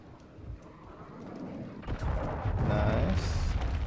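Airstrike explosions in Call of Duty Modern Warfare 2 ranked play, a low rumbling boom that swells and holds loud through the second half, with faint earlier thuds.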